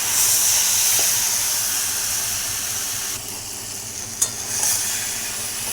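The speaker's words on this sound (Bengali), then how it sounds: "অনেকক্ষণ ধরে নেড়ে নেড়ে শুকাতে হবে যাতে একটুও জল না থাকে" Taro leaves stirred and fried in a wok give a constant close hissing sizzle with steamy texture. A brief scrape or clack sounds near the end, and no voices are heard.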